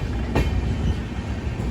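Loud, close rumble of a Kamakhya to SMVT Bengaluru AC express in motion, with wheels rolling over the track, a sharp clack near the start and continuous low-frequency roar throughout.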